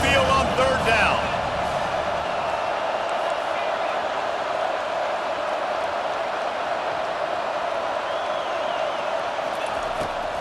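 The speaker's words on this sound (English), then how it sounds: "Here comes this home crowd as the defense tries to get off the field on 3rd down." A home crowd roars steadily in EA Sports College Football 25 as the defense faces a 3rd down, a dense, sustained stadium wash of cheering that stays loud and even throughout.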